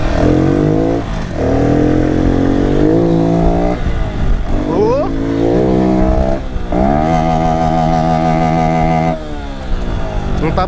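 A Honda Pop 110 motorcycle engine revs hard and repeatedly in loud surges, with brief drops between bursts, heard up close while riding.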